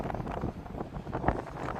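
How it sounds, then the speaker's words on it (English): Wind gusting across a microphone on a Chicago lakefront walk, a rough, rumbling buffeting that swells and dips unevenly for about two seconds with no clear voices. "We got some wind."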